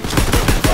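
A rapid burst of machine gun fire from the video game Call of Duty WWII, about four or five close, loud shots in quick rhythm, with no talk.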